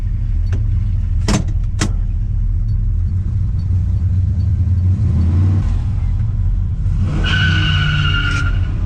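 A 1968 Dodge Charger with a 440 engine and four-speed gearbox being driven, giving a loud, close, continuous engine rumble with brief tyre and road noise bursts and a rising rev near the end.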